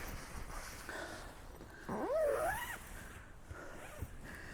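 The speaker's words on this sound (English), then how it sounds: "I'm gonna go ahead and zip this back down so it's easier to get to once I'm in." A hammock's zipper being pulled down, a single rising-and-falling zip of about a second, close and fairly clear over a quiet outdoor background.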